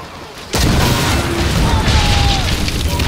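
A ship's weapon fires in the pirate naval game Skull and Bones with one sudden heavy boom that swells into a dense, sustained roar of rushing noise, loud and close.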